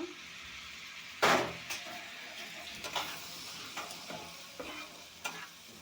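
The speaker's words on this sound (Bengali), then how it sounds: "আর দেবো মরিচের গুঁড়ো ভালোভাবে একটু কষিয়ে নেব একটু জল দিয়ে দেব কষানোর জন্য" Chili powder spice mix stir-fried in a pan with a little water for a papaya ghonto, giving a sharp burst of sizzling followed by repeated scraping stirs and softer hissing bursts at a steady rhythm, close up with no voices.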